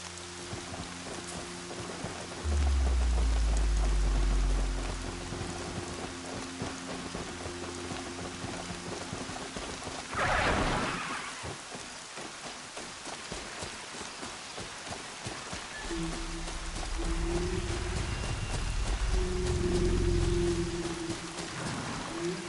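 Rain pours steadily in Horizon Zero Dawn, a dense continuous patter on surfaces with a swelling rush midway and low rumbling underneath, no voices.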